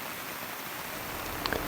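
Heavy storm rain falls steadily, a dense, even hiss of downpour with a few sharper drips near the end.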